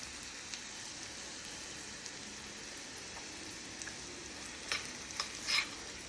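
Onion and dried red chillies fry gently in a pan for a spinach and lentil curry. A soft, distant sizzle runs throughout, with a few louder stirring scrapes near the end. No speech is heard.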